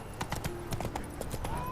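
Horse hooves clip-clop at a steady trotting rhythm in The Witcher 3: Wild Hunt video game, loud and near over a constant background bed of game ambience.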